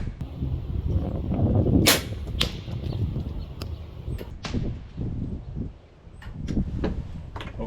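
Killer Instinct Fuel 415 crossbow fired outdoors at a 50-yard target, several sharp cracks and thwacks spread over a breezy field with wind rumble between them.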